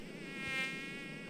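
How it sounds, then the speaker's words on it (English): Mosquitoes buzz in Minecraft with the Feed The Beast mod: a thin, steady, high-pitched whine that hovers close for a moment and swells slightly in the middle before fading a little. "Oh, mosquitoes."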